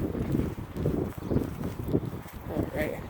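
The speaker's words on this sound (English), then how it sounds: "Real windy." Gusty wind buffets the microphone in a steady low rumble with rising and falling surges, loud and close throughout.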